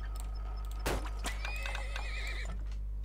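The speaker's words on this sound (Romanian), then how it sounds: "Deci pun din start niște cai cu țeava mai groasă." A horse whinnies loudly in an oil-drilling video game, with a sharp clip-clop of hooves near the start, all over a steady low electronic hum with no talking.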